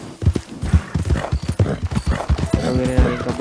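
Horse hooves clop in a quick, steady trotting rhythm in Red Dead Redemption 2, close and prominent, with faint game ambience behind.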